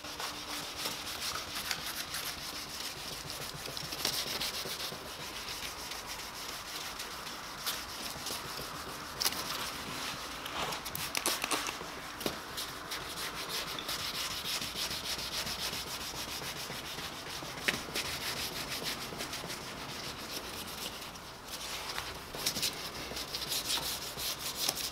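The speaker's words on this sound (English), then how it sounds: "I spent around 15 minutes wet sanding each headlight in the end, which made quite a remarkable difference" A Subaru Impreza STI (JDM import) headlight lens wet sanded by hand makes a steady, close rubbing and swishing that continues without a break for the whole stretch, with no voices.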